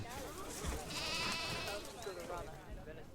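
Sheep in the farming game Emerald Wilds bleat softly over a steady ambient backdrop, a few wavering calls blending into the soundscape at low volume.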